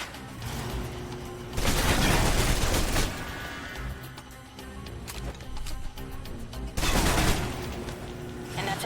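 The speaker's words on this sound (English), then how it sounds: "Now for your submachine guns. If you're trapped in close quarters with multiple opponents, the SMGs can help clear the room quickly." Submachine gun fire in the Alpha Protocol video game: two loud, close sustained bursts of rapid automatic shots, each lasting over a second, separated by a stretch of quieter scattered gunfire.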